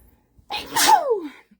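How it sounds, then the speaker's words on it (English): A single loud sneeze close by: a short sharp intake followed by an explosive burst that trails off in a falling, voiced tail. "And then I'm gonna sneeze."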